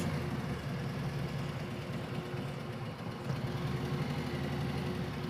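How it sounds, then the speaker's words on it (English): Motorcycles idle in a parking spot near a main entrance in Nashville, giving a continuous low, even engine rumble with a mild throb, close by and unbroken throughout. "I get to park right in here with the motorcycles"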